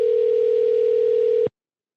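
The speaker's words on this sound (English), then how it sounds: "Cohen, I'm calling you. Don't pick up. I'm just checking something" Steady electronic telephone tone holding one pitch, sounded continuously at moderate loudness for about a second and a half, then cut off abruptly into silence while a call is being placed.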